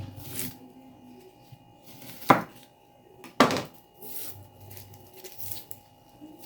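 An onion sliced with a knife, two sharp distinct cuts about a second apart, close and fairly loud over quiet kitchen background, with softer handling sounds around them.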